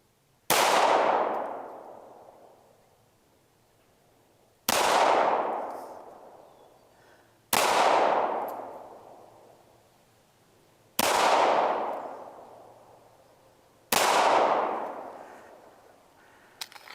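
Five sharp, loud pistol shots from a CZ P01, fired one at a time about three seconds apart, each with a ringing decay and no talking.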